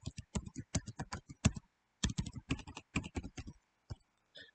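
Password typed on a computer keyboard: two quick bursts of crisp, close keystrokes in an uneven rhythm, split by a short pause and ending in a few scattered taps.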